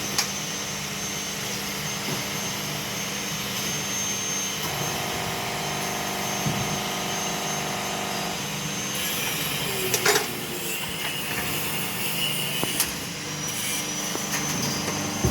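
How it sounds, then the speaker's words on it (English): A swaging machine presses fittings onto the ends of stainless steel sailboat rigging rods, giving a steady loud mechanical whine and hum with a droning tone partway through and a few sharp knocks near the end, with no voices. "This machine hammers the ends of the stainless rods with enormous pressure, forming the fittings permanently onto the rod."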